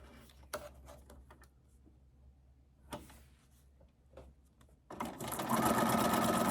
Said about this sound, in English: So we're going to start with the straight stitch.